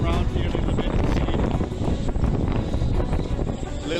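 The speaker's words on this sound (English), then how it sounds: "We have pretty much consistent wind with around 40 knots, gusting up to 60, 70 knots." Strong hurricane wind, sustained around 40 knots and gusting to 60–70 knots, roars across a boatyard as a steady, dense, broadband rush that buffets the microphone throughout, with no clear voice.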